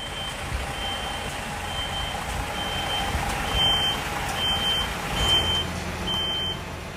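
A truck with a trailer reverses through a hall full of obstacles, its engine idling low beneath a short series of high reversing beeps that come in irregular pairs, loud and close.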